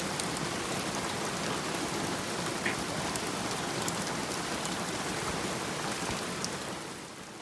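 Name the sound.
heavy tropical rain in Far North Queensland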